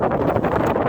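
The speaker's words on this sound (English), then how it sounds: "Can't already tell by the noise, it is a lot windier up here." Strong wind buffeting the microphone at the open summit of Big Bald in Pisgah National Forest, North Carolina, a steady loud roaring rush with gusty fluctuations and no voices.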